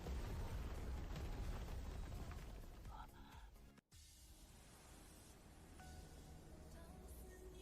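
A loud blast roars at the start, then the noise drops into rumbling debris and ringing tones, with a sudden brief gap midway.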